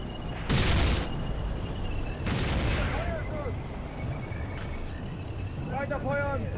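Gun of a Marder tank destroyer firing in a realistic WW2 Eastern Front simulator game, two loud booming shots about two seconds apart, each with a rumbling tail, over steady engine noise with faint chirping sounds near the end.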